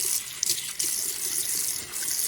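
Water runs steadily from a tap to rinse cleaner off a surface during a laundry room makeover, a close, continuous splashing hiss with small shifts as the stream strikes the surface.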